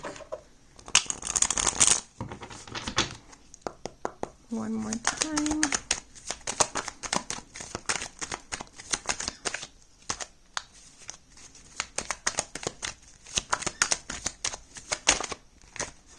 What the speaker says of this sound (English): I feel like shuffling the deck.